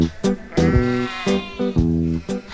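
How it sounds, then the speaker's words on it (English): Sheep bleating on a sheep farm, several loud close calls in quick succession, each a wavering nasal bleat, with no talk over them. "And there are a lot of sheep here."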